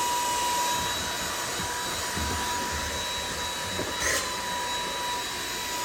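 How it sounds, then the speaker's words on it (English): A thin stick vacuum cleaner runs steadily while reaching into the narrow gaps beside a refrigerator, a constant close whirring drone with a brief rise in pitch near the end. "when you vacuum, sometimes there's crumbs on the very edge"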